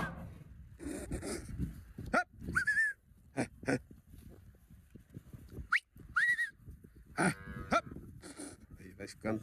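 Cattle calling near young calves on a farm: scattered moos and animal calls mixed with rustling, whistles and brief human voices, fairly quiet and outdoors.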